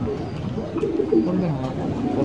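Close, low coos from crested Silver Musaldom pigeons roll and warble through a short moment, soft but continuous against a noisy background.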